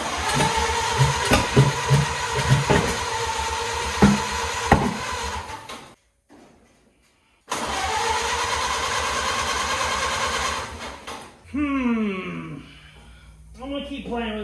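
A 1928 Ford Model A engine cranks with an irregular pulsing churn, stops for a short silent gap, then cranks again in a sustained run before a brief sputter, loud and close, with a voice speaking near the end.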